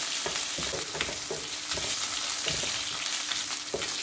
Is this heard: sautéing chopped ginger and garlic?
yes